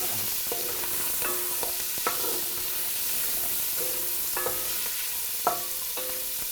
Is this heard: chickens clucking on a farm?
no